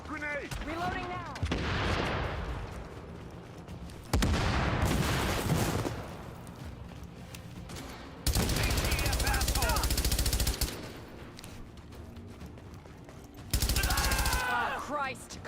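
Automatic weapon fire in The Division erupts in several loud bursts, each lasting a second or two, separated by quieter stretches where voices talk.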